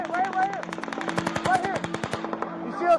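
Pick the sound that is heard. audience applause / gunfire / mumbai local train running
gunfire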